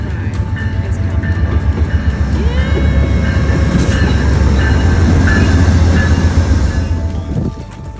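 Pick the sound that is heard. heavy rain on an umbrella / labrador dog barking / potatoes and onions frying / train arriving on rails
train arriving on rails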